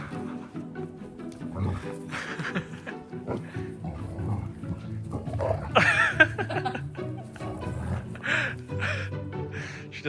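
Two dogs, one a rescue, play roughly up close, with growls, snorts, grunts and whimpering yelps in a continuous scuffle; a voice briefly sounds under the noise.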